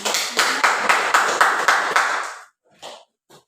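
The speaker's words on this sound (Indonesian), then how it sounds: "beri dulu tepuk tangan" A class of students in a classroom claps in a short burst of rhythmic, fairly loud hand claps lasting about two seconds, followed by a few scattered faint claps.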